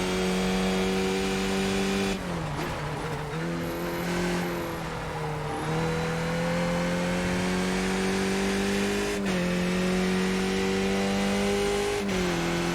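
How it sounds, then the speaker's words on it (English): A race car engine in a racing video game drones loudly and continuously, its pitch dropping sharply at each downshift, with a rough, strained blip around two seconds in and sustained high revs throughout. "Don't need to be hitting the throttle that hard on the downshifts."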